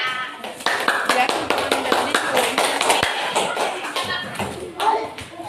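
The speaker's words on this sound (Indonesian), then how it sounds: "silakan tepuk tangan dulu untuk teman-temannya" Students in a classroom clap for their classmates during a maths lesson on integer operations, a quick, uneven run of sharp hand claps from a small group, close and fairly loud, with voices mixed in.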